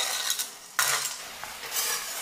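Rock sugar being stirred with a metal utensil in a hot wok while it melts into caramel, giving light scraping and clinking strokes that come in bursts, close and moderately loud, with no voices.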